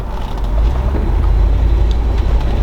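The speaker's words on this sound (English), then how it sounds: "Let's go get it up to speed a little bit. Oh, there it is, it shifted again." A Mercedes ML55 AMG accelerating from inside the cabin, a steady low engine drone and road rumble that swells slightly as it gains speed and shifts gears.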